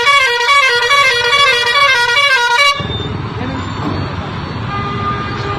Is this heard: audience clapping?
no